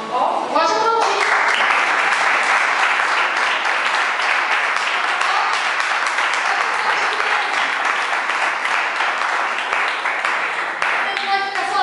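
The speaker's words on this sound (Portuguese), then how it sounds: "Pode aplaudir." A church congregation claps together in a loud, dense wave of applause that holds steady, with a voice briefly heard near the start and again at the end.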